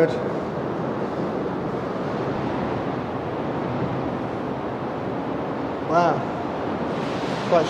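Sea surf roars and booms steadily inside a rock cave at Wharariki Beach, a dense echoing wash with a louder surge near the end; a voice speaks briefly over it.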